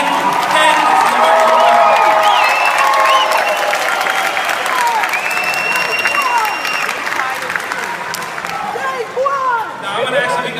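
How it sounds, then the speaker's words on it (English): Loud, sustained applause from a large crowd at a graduation, with cheers and whoops scattered through the clapping, slowly thinning toward the end. "So give them a big round of applause"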